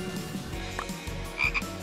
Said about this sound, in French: Je vais me transformer en grenouille.